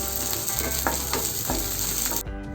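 Onion and tamarind sautéing in a pan for peanut chutney, a steady close sizzle with a few soft stirring scrapes, cutting off abruptly near the end.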